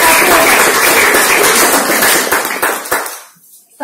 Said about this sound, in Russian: Аплодисменты, Галина Михайловна Попова.